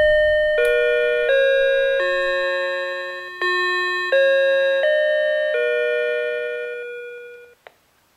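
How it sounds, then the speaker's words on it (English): A wireless door entry alert chime, model UTDC-DCR2500, placed in a remote location, plays a clear electronic melody of about seven sustained notes that step up and down. Each tone rings and fades before a small click at the end, with no talking. "we will demonstrate for you some of the tone or chime options to be used with different sensors or door entrances."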